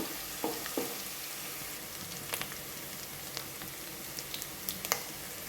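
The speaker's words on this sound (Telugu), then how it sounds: "తర్వాత ఆనియన్స్ వేసుకుందాం. వీటిని బాగా వేయించుకోవాలి." Whole spices, a bay leaf and onions fry in hot oil for chicken, giving a steady sizzle throughout with a few soft clicks and pops from stirring.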